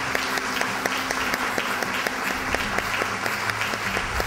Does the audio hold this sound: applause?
yes